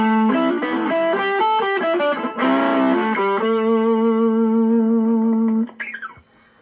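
An electric guitar runs through a Harby Centauri Modified pedal with both the gain and clean knobs turned fully up. It plays a quick, heavily distorted run of notes, then one long sustained note that rings before cutting off with a final squeal.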